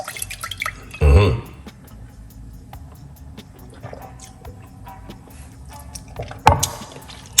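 Water rinses out a container while making a kiwi, cucumber, lemon and ginger drink: two short splashing gushes, the second near the end, with faint dripping and handling noise between them.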